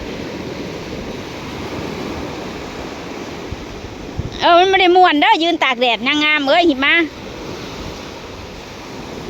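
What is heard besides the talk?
sea waves breaking on the beach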